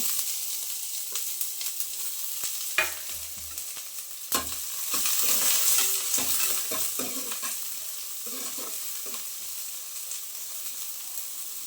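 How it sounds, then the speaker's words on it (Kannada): Mutton masala powder, black pepper and onions frying in a pan for mutton sambar: a continuous hissing sizzle with intermittent spoon scrapes and knocks against the pan, close and moderate in level, no speech. "ಕಾಳುಮೆಣಸು ಈರುಳ್ಳಿ ಎಲ್ಲ ಹಾಕಿ ಫ್ರೈ ಮಾಡಬೇಕು"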